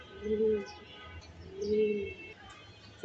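Racing pigeons coo in two low, rounded phrases, close by and fairly soft, with faint chirps and background rustle between them and no speech.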